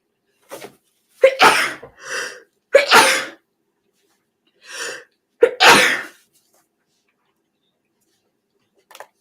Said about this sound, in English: I just had a sneezing attack.